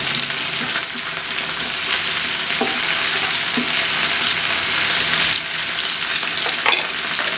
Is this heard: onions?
yes